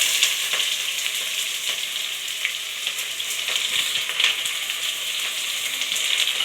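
Onion frying in hot oil with cinnamon, cardamom, cloves, stone flower, star anise, marathi moggu and bay leaf for veg pulao, a steady close sizzle with stirring scrapes and pops, no talking.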